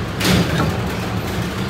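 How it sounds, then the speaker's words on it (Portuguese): A car door on a restored Willys Rural is opened, giving a brief close clunk and rattle of the latch and panel against a steady background noise. "Vem abrir essa porta aqui"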